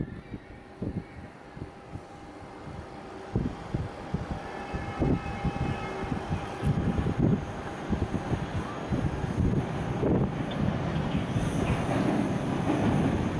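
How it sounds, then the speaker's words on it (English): A regional train pulls out of Paris Gare du Nord, a steady low rumble with repeated wheel clatter over rail joints building gradually, heard from a platform with faint wind and a high whine. "there's some other regional train leaving"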